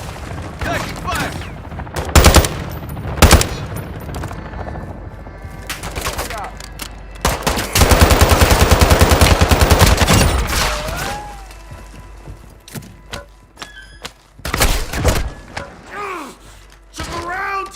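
Gunfire crackles through a Call of Duty Warzone 3 DMZ match: scattered single shots, then a long sustained burst of automatic fire, with in-game voices calling out between volleys.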